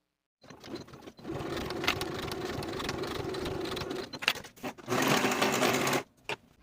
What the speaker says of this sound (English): Sew your underarm seam with a 1/2 inch seam allowance